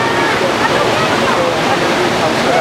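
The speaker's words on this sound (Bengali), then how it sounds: "দেখো, ফলসটা আমাদের পেছন থেকে দূর থেকে ফলসটা পড়ছে।" Steady, full roar of Kempty Falls in Mussoorie, Uttarakhand, a broad rushing waterfall heard fairly close and unbroken throughout, with no other sounds standing out.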